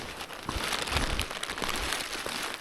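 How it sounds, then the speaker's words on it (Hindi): Light rain falls on a mountain trek near the Indrahar pass and Nagdal, a faint, dense patter of soft crackling drops with close, irregular crinkly taps. "हल्की हल्की हल्की बारिश लगी हुई है सुबह से ही।"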